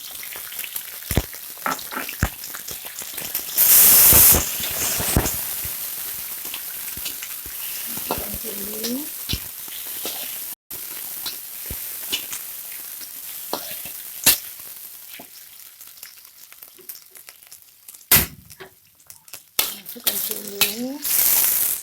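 Squid dropped into a hot pan of tauco sauce for pare cumi tahu, frying with a steady close sizzle, broken by occasional stirring clinks and scrapes, with no voices.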